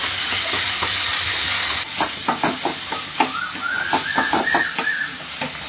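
Small onions and tomato sauté in a pan for a mutton intestine curry, a sizzling hiss at first giving way to a series of close scraping stirs and clinks, with a faint bird-like chirp in the background.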